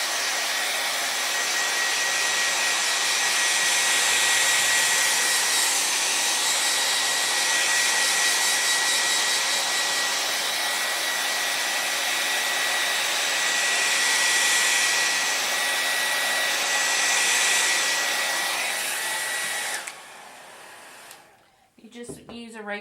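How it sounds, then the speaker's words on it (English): A regular hair dryer blows steadily up close for about twenty seconds, drying a layer of chalk paint on a vintage truck piece, then clicks off near the end. "a regular hair dryer."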